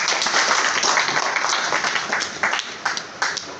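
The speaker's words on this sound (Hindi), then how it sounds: "चलिए महात्मा बुद्ध के लिए एक जोरदार ताली बजाइए।" An audience at a spiritual talk breaks into dense applause, many hands clapping together in a steady wash that thins toward the end into a few separate claps.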